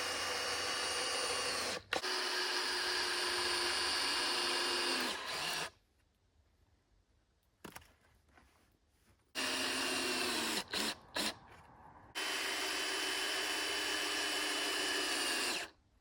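A power drill drives screws into a wooden sawhorse in loud sustained bursts, with one long run, a pause with quieter handling clatter and short stuttering pulses, then another long steady whine.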